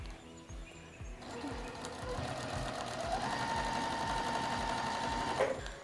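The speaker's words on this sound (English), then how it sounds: "take it over to our sewing machine, place our foot down" A sewing machine stitches quilt fabric with a rapid, steady mechanical chatter that starts after a brief pause and runs evenly to the end, fairly faint and with no talk.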